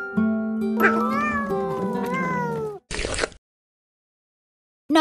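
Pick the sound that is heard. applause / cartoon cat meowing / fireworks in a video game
cartoon cat meowing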